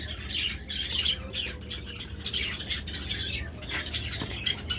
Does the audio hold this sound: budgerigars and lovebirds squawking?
yes